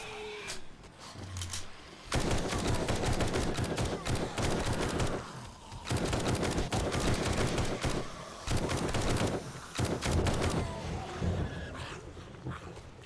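Dense, loud volleys of gunfire in 7 Days to Die come in long sustained stretches separated by brief lulls, with faint background voices.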